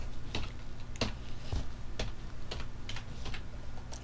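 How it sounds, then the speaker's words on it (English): Computer keyboard typing, scattered individual keystrokes in an irregular rhythm, faint and close against a low steady hum. "the next thing we're going to want to type in is select"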